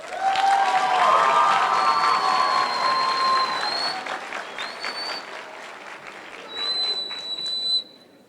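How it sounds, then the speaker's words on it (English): Loud crowd applause at an eighth-grade promotion ceremony fills the room, with scattered cheers and a few whistles over the clapping before it fades out at the end. "Please give this group a round of applause."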